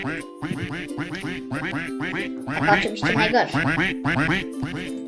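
Cartoonish duck quacks from the Roblox video game repeat in rapid clusters throughout, loud and close, with people talking over them.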